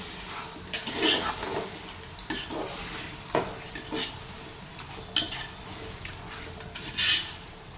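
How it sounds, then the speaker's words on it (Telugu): Chicken pieces added to a pan for chicken pulao and stirred, a steady low sizzle with a few scraping clinks of a spoon against the metal, the sharpest scrape near the end. "వేసుకోవాలి చికెన్ వేసుకొని అలిపి పెట్టాలి"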